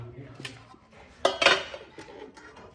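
Dishes, pots and utensils get washed in a home kitchen, with scattered metallic clinks and clatters, a couple of louder knocks near the middle, and faint voices in the background.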